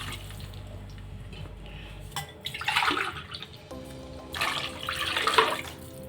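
Water is poured from a glass into a cooking pot for jeera rice in two distinct splashing pours, the second longer, close and clear with no talking.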